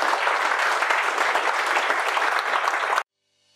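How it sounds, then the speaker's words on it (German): An audience at a Limited WiP Society Hamburg talk on flight levels claps in loud, dense, sustained applause for about three seconds, then it cuts off abruptly into silence. "Applaus."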